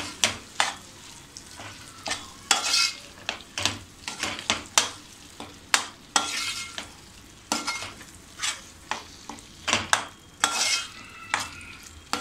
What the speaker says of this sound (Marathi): असं थोडं आपण सतत ढवळत राहायचं आहे